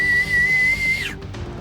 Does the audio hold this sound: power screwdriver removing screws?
no